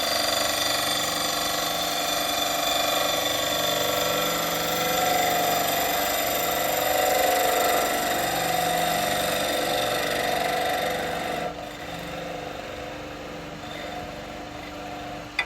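Wood lathe turning a lump of ash, the gouge cutting a tenon with a steady, continuous whirring hum and scraping tone throughout, close and loud, dropping slightly quieter near the end.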